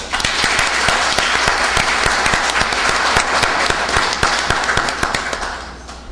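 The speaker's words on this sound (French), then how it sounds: "je voudrais que vous vous applaudissiez vous-même" Sustained applause from an audience of party activists at an indoor political meeting, a dense wash of many hands clapping with sharp individual claps standing out, steady and loud throughout before easing slightly at the end, with no talking.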